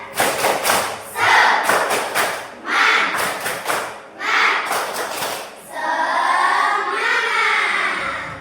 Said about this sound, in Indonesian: Semangat, kita tepuk semangat dulu. Tepuk semangat.